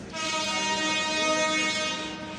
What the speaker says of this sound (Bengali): লালমনি এক্সপ্রেস চলে যাচ্ছে নাটোর রেল স্টেশন ছেড়ে